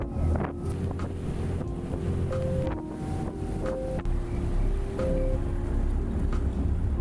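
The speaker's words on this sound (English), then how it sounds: "I decided to sit at the top of the ferry. It was insanely windy though" Strong wind buffets the open top deck of a ferry, roaring steadily into the microphone with gusty low rumble and occasional thumps, engine and water noise underneath, no voices.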